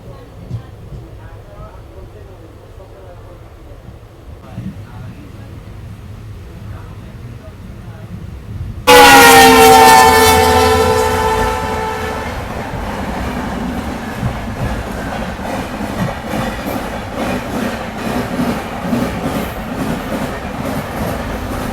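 A passenger train pulls out of Dudhnoi railway station: quiet rumble at first, then a sudden loud burst of screeching, tonal wheel and brake noise, settling into continuous rolling clatter.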